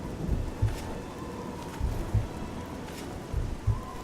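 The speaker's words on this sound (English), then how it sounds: "I guess it's raining." Steady rain falls in The Elder Scrolls IV: Oblivion, a soft even hiss under several low rumbling thumps that come in pairs at regular intervals, with no talking.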